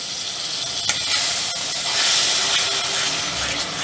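Spices and tomato paste stir-fried over high heat for a Bengali dhokar dalna potato gravy, giving a steady, loud broadband sizzle and hiss that swells slightly midway, close up with no talking.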